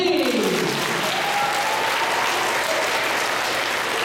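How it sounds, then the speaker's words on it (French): A class of children applauds together in a classroom, steady broadband clapping that stays loud and even throughout, with some brief voices mixed in at the start. "On l'applaudit!"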